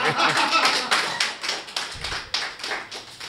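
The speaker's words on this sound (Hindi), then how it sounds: "आपकी तालियां चाहता हूँ" An audience at a Hindi kavi sammelan poetry gathering claps in brief, uneven bursts, fairly close and moderately loud, with no voices over it.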